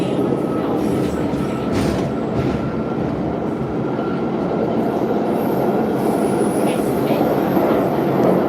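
Steady rumble and rattle inside a moving metro train, with a continuous low roar, faint wheel squeal and an occasional high whine, no talking.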